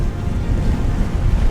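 Offshore ocean waves around a sailboat on an overnight passage off Florida, a dense, loud low wash of water and wind noise with no pauses.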